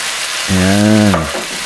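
Vegetables stir-frying for chicken lo mein give a steady, close sizzle throughout, with a short droning squeal cutting in for under a second partway through, and no talking.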